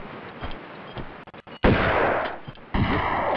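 Shotgun blasts from the video game Tomb Raider 2, with two loud, sharp reports about a second apart. Each one rises abruptly out of quieter game ambience.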